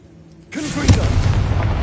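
A Confringo fire spell in Hogwarts Legacy bursts with a loud booming blast that swells suddenly and is followed by a sustained rumbling roar.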